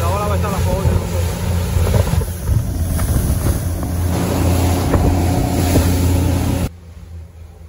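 A motorboat engine drones loudly with waves slapping and wind buffeting the microphone while crossing to Bimini in bad weather and big seas, steady throughout before dropping off near the end; people talk over it.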